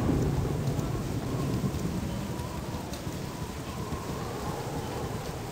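Steady rain pours with a low rumble of thunder beneath it in the game Baldur's Gate, dense and constant, without any talking.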